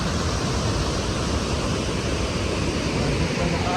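Sangan Falls waterfall roaring as a steady, dense rush of falling water, loud and close, continuous without a break for the whole stretch.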